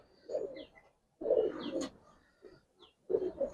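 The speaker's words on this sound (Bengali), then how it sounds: "একদম ইয়াং কবুতর ভাই।" Young pigeons of the Giribaz and coloured highflyer breeds coo in low, throaty bursts, three separate phrases with pauses between, fairly close and alone without talk.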